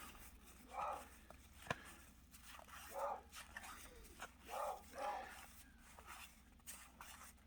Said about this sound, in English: you might be able to hear my dog barking in the background.